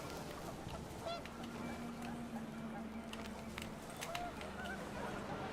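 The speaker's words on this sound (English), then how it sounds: "The wind picked up, and panicked geese appeared and quickly went." Geese honking in the video game What Remains of Edith Finch as wind picks up: a few short, faint honks over a steady windy background rush.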